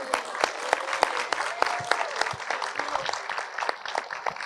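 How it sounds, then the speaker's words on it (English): An audience claps at a basketball player's Q&A premiere, a steady round of applause with distinct individual claps, moderately close, and no talk over it. "give her a round of applause"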